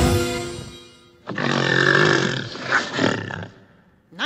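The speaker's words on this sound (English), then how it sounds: "Make a brute that snorts and roars!" A magically summoned brute lets out a loud, close, drawn-out roar with rough snorting grunts. It follows a brief musical flourish and stands alone without talk.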